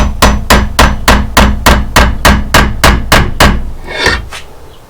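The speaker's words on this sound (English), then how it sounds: "Hammer it first." A hammer strikes a Ryobi #1 spiral screw extractor being driven into a stuck bolt on a Mitsubishi Montero front hub: about a dozen sharp, loud metallic blows in a steady fast rhythm, then a brief scraping rattle.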